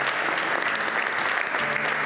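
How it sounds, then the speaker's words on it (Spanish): A church congregation applauds, a dense, sustained clatter of many hands clapping at once, loud and even from start to finish. "¿Por qué no aplaude a Jesús?"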